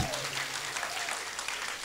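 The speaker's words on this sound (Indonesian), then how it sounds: "Tepuk tangan semua." Brief crowd applause at a school app launch event in Sibolga, steady clapping that is faint and distant and fills the whole short moment.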